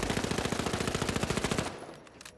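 An MP5 submachine gun in the shooter game The Finals fires a fast, loud, even automatic burst for about a second and a half. It stops abruptly, leaving a fading echo and a few faint clicks.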